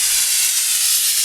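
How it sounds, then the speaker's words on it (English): An air compressor nozzle blasting dust out of gaps in the hull of an 18-foot sailboat under construction, a loud, steady, close hiss of rushing air with no talking. "that's where the air compressor comes in handy, because the brush just won't do it"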